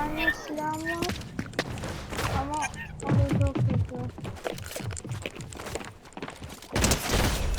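Shotgun fire in the Fortnite video game, loud repeated blasts scattered through the clip amid rapid game sound effects, with people talking over the action.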